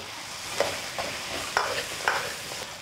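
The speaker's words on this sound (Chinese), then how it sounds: "炒香出色后下入猪脚杆，来一点八卦大料香叶桂皮， 先给它翻炒匀净" Pork trotters stir-fry with star anise, bay leaves, cinnamon and Sichuan chili bean paste, a constant sizzle punctuated by about four or five soft scraping turns of the spatula.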